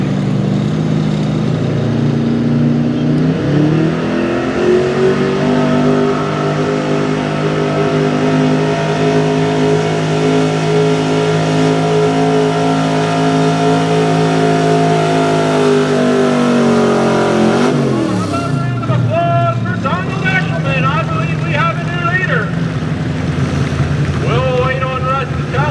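Pulling truck with a gas LS engine revving hard at a truck and tractor pull, a loud sustained roar that holds steady then drops away, followed by rattling mechanical clatter close by.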